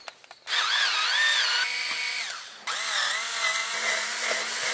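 A power driver whirs loudly in two bursts as Torx T25 screws are backed out of the top cover of a Ryobi 990R, the pitch sagging as the first run winds down before a second even spin.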